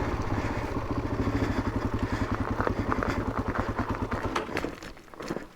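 A Suzuki DR-Z400 trail motorcycle rides downhill on a solo trail ride, its engine loud and close in a steady, rapid pulsing beat that loosens and fades toward the end.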